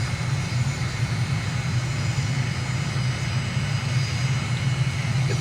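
Steady jet engine drone of an airliner in Microsoft Flight Simulator after the throttle is pulled to idle, a continuous low rumble with a faint high whine, even and unbroken throughout.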